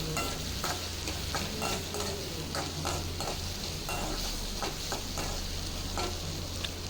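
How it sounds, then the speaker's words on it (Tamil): Chopped garlic and onion fry in an oiled pan for a tomato thokku, stirred in repeated scraping strokes over a steady close sizzle, with no talking. "ஆட் பண்ணிவிட்டு நல்லா ரெண்டையும் சேர்த்து கிளறி விட்டுடலாம்."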